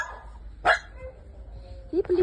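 Dogs bark a few times in short bursts, one sharp bark then a couple of quick yips, with a voice faintly heard between them.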